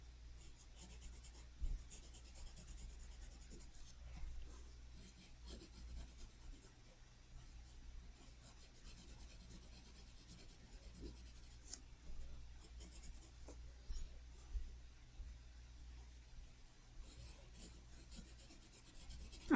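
Colored pencil scratching across paper as a line is straightened, soft irregular rubbing strokes that come and go quietly at close range.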